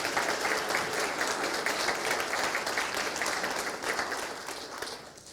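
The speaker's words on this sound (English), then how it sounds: "Now we have to give them a round of applause." Sustained audience applause at a Black History Month community arts celebration, a dense steady wash of many hands clapping that fades slightly toward the end.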